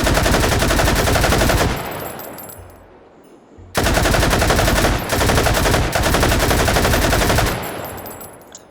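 A light machine gun fed from a 100-round drum fires long, loud sustained bursts in the VR shooter H3VR, one burst, a brief pause, then a second longer stream of rapid automatic fire ending in a fading tail.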